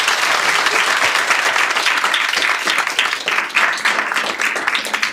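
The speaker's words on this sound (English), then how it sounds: "Can we have a big round of applause for our panelists?" Enthusiastic audience applause for the panelists at a legal journalism panel event, thick continuous clapping with a few sharper individual claps standing out, sustained at an even level.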